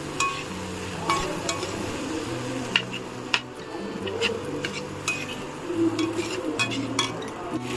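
Food being sautéed and stirred in a pan, with a moderate sizzle under clinks and scrapes of a utensil against the pan, set against faint background tones, with no one talking.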